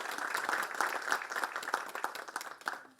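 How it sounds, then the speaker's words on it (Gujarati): A crowd applauds after a sung and flute devotional performance, a dense, steady patter of many hands heard from a distance that fades slightly toward the end. "એકવાર એમના માટે ફરી એકવાર તાળીઓ આપણે."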